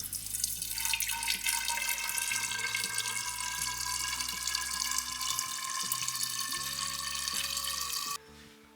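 Homemade sapota (chikoo) wine pours steadily into a bottle in a continuous liquid stream that stops abruptly near the end. Faint background tones sit underneath.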